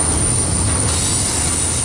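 A train rolls past close by along a busy rail line, a steady, loud broadband roar of wheels and cars with a faint high squeal riding on top, no voices.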